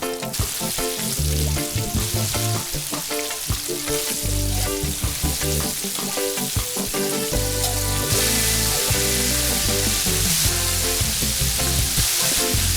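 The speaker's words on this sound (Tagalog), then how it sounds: "At i-deep fry ng 11 to 12 minutes in medium to high heat." Chicken deep-fries in hot oil over medium to high heat, a dense, loud, continuous crackle and bubbling with no voices.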